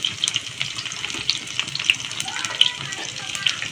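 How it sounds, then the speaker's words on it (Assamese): Fish frying in a pan with onion, ginger and garlic in a home kitchen, a close sizzle peppered with sharp popping crackles and watery spatter, steady throughout. "পিঁয়াজ অলপ দি লৈছোঁ, তাৰপাছত আদা ৰহুনখিনি দি তো এয়া মাছখিনি দি দিলোঁ।"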